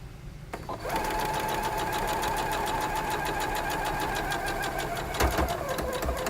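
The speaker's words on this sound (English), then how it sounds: "where that triangle point is supposed to be, we're just going to sew like that" A sewing machine runs steadily after a short start, stitching fabric along a fold with a fast, even mechanical whir close by, broken by a brief clunk near the end.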